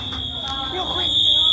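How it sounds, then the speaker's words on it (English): A fire alarm sounding inside a building after someone's microwave set it off, a loud continuous high-pitched electronic tone that holds steady throughout with indistinct background voices underneath. "The fire alarm went off. It's super loud inside."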